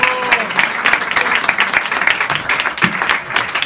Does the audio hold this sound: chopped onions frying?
no